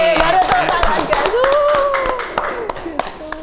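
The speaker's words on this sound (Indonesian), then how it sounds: "Tepuk tangan nih, baru tepuk tangan nih." Several people clap hands during a podcast-style conversation, sharp individual claps landing unevenly and fairly close, with speech and a rising voice running over them throughout.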